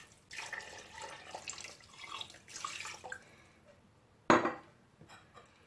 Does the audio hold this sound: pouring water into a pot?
yes